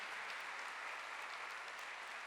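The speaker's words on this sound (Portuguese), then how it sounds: "Eu queria que você aplaudisse esse dom de Deus, que é a Canção Nova." Congregation applauding during a Mass homily at the Charis Brasil gathering, a steady, dense wash of clapping from a large crowd that holds evenly throughout with no talk over it.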